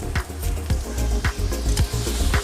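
Paste added to a hot frying pan for an Andhra-style amaranth leaf onion dish, sizzling steadily while a spoon stirs and scrapes in a quick rhythm, close and loud.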